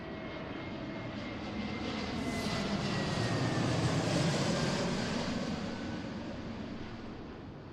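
A United Airbus A321neo airliner landing at Seattle airport, its engine roar swelling to a peak midway and then easing off, heard from a distance and continuous.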